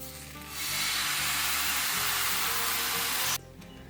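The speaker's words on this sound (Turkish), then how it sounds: "Tavamızın dibine azıcık tereyağı sürüyorum." Butter meeting a hot pan bottom while making yeasted crepes, a steady soft hiss and sizzle that starts suddenly, holds evenly for a few seconds, then cuts off.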